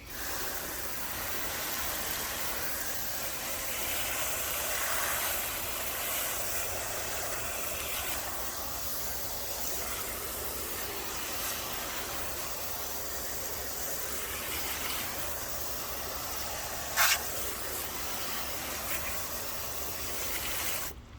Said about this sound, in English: And then just rinse it off.